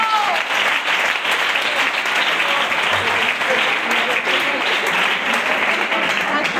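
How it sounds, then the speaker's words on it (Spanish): A church congregation applauds during a service, a dense, steady wash of many hands clapping close by that holds evenly throughout, with a few voices mixed in. "Pues dale un aplauso al Señor."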